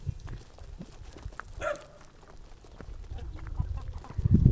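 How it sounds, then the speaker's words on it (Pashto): Chickens on a farm give a brief clucking call near the middle, surrounded by outdoor rustling and low thumps that grow louder toward the end. "دا د مالک د ډېرې چرګان دي"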